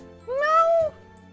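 A person imitates a cat's meow with a single drawn-out, rising-then-falling vocal meow lasting about half a second, fairly loud and close, with faint background noise around it.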